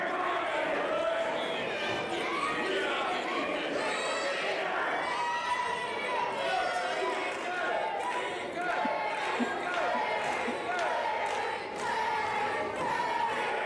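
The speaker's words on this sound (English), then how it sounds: "Crowd still chanting loud for legendary Larry D." A wrestling crowd at the AMW Summerbash 2017 event keeps up a loud, sustained chant for Larry D, a dense wall of massed voices filling the arena with steady rhythmic pulses.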